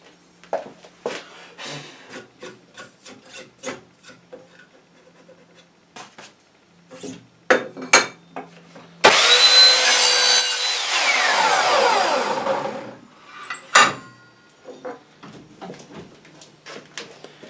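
An Evolution Rage 3S saw cuts through copper pipe in one loud, close, steady grinding run of about four seconds, set among quieter clicks and handling noises.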